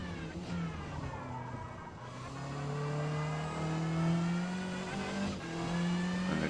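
A Subaru Levorg GT in the Forza Motorsport racing game accelerates on wet tires at the Catalunya circuit, its engine note rising steadily through a gear with a brief dip at a shift, loud and continuous with no talk.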